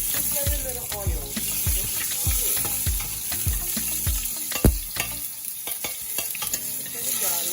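Garlic frying in a very small amount of oil, a steady sizzle broken by repeated close scraping and stirring strokes, with a few sharper knocks of a utensil against the pan.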